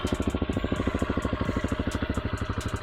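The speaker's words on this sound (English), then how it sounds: "the TBR7 is all together and cranks up, runs everything" A 2021 Tao TBR7 motorcycle engine idles close by with a rapid, even, pulsing chug, each firing pulse distinct and regular throughout, loud and alone with no talk over it.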